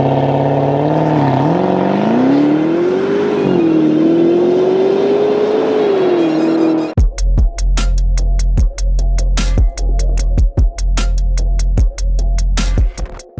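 A 2022 Maserati Ghibli Trofeo engine revs up and settles into a rising, droning pull for about seven seconds, then breaks off abruptly into a run of sharp, rhythmic thumping beats.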